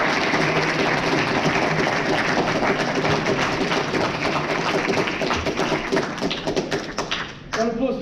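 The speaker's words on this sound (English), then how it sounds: "if we could just have a round of applause for Sam" A college audience applauds loudly and steadily in a hall after a live Q&A talk by a prison officer, a dense patter of clapping running throughout before fading near the end, with faint voices mixed in.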